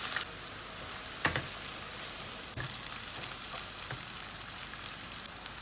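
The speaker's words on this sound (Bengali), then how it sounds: "আমার রসুনটা লাল হয়ে গেছে, আমি একটা বড় অনিয়ন দিয়ে দিচ্ছি" A large onion drops into hot oil with garlic already browned, giving a steady broadband sizzle throughout, with a few sharper crackles and a louder burst near the middle as the pan keeps frying.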